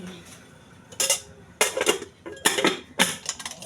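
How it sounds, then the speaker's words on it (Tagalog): Pans are scrubbed and handled during dishwashing, with four or five bursts of scraping and metallic clattering separated by short quieter gaps, close and fairly loud. "Mag-iis-is pa ako ng mga kawali"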